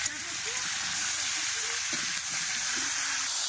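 Crab curry frying in a pan with onion, salt, turmeric and chili powder gives a steady, close sizzle and hiss that runs unbroken throughout.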